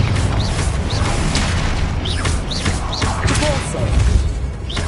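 Spell-combat effects in the Hogwarts Legacy video game, with booming blasts and rapid whooshing spell sounds over a rumbling battle backdrop, loud and dense throughout, with some speech.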